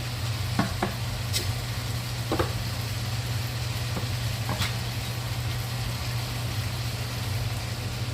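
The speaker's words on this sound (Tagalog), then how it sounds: "Haluin natin. Lalagyan ko siya ng gata." Vegetables in a pan with coconut milk being stirred over a low steady simmer and hum, with a few scattered scrapes and clicks of the utensil, close and continuous without speech.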